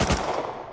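Burst of gunfire from an enemy on an oil rig in the Rust video game, a short, dense, loud crackle that fills the clip.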